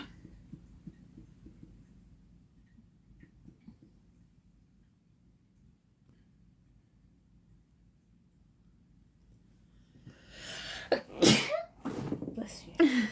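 A sudden sharp sneeze bursts out near the end after a long stretch of quiet low rumble, followed by a couple of breathy sounds.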